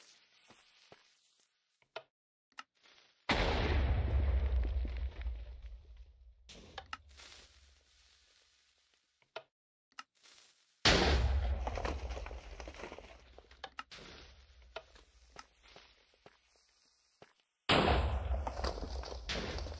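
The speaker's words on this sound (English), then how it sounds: "Let's fire some shots off with this tank and then we'll go." Tank cannon shots fired in Minecraft, three loud booming blasts spaced several seconds apart, each with a broad rumbling decay, over quiet game ambience.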